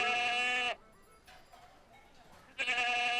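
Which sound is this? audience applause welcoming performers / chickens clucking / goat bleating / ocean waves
goat bleating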